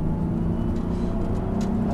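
A car accelerating through a bend during a driving lesson on a track, its engine a steady low hum with broadband road noise, close and continuous throughout.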